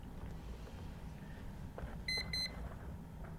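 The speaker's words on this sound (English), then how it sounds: "I'm going to set a timer right there, 5 minutes." A timer alarm at an investor meeting gives two short bright beeps over faint room noise, with no talking.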